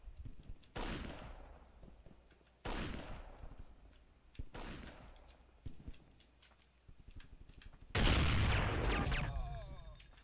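Gunfire from the video game Counter-Strike: Condition Zero comes as four sharp, loud shots spaced a couple of seconds apart, each with a decaying echo, the last one heavier and longer, with no talk over them.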